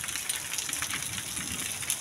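A hard downpour of rain in a steady hiss with scattered patters, fairly close, continuous for the whole stretch with nobody talking.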